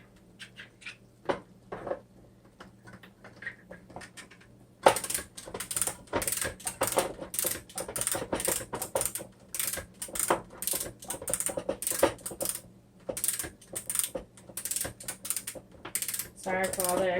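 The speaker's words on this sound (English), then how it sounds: "I'm just bumping the can here with the other one. It's bouncing around." Metal cans knock and bump against each other while being handled in a kitchen, a quiet few taps at first, then a busy run of rapid, clattering metallic knocks and rattles up close.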